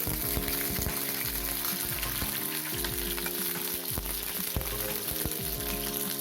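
Torn green chillies frying in a kadai after peanuts were roasted in it, a loud, dense, continuous sizzle with crackling bursts, close up and alone without any talking.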